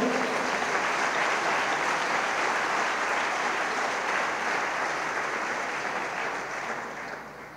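A church congress congregation breaks into loud, sustained applause, a dense wash of many hands clapping together that holds strong and then gradually tapers toward the end, with no voices over it.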